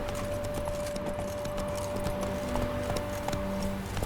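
Horse hooves clip-clopping at a steady rhythm in The Witcher 3: Wild Hunt, close and continuous over a low game ambience with a steady tone.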